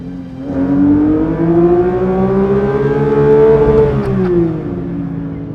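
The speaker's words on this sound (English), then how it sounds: "This engine is more like an angry swarm of racing motorcycles." A sports car engine, a Porsche 911 GT3 or Dodge Viper, revs hard and climbs in pitch with a dense racing-motorcycle snarl, then drops back as the revs fall, loud and close with no talk.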